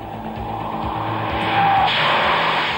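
A car on competitor tires skids while braking through a tight bend on a wet road at 40 mph, a loud sustained tire squeal and hiss over engine noise, building over a few seconds.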